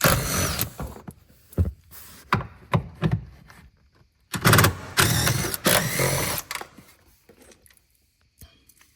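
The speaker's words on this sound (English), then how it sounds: "You got to loosen those, and they're 10 millimeters." Small 10 mm bolts holding the seat latches in an Acura TL are loosened with a ratchet and tool, giving bursts of clicking and metallic working sounds with short pauses, close by, with someone talking at times.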